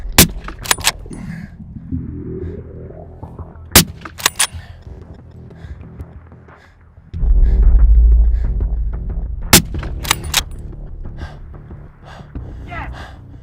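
Rifle shots on an ibex hunt in the Kyrgyzstan mountains: several sharp, loud cracks spaced irregularly across the span, some in quick pairs, over a low rumble of wind and outdoor handling noise.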